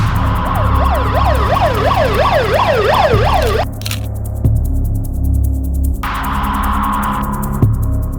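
An ambulance siren wails in a fast rising-and-falling pattern, loud and close, then cuts off, followed by traffic rumble and a brief second burst.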